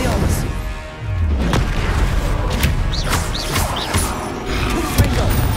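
Expelliarmus and other combat spells are cast in Hogwarts Legacy, producing repeated loud booms, crashes and magical whooshing bursts in rapid succession over constant background game noise.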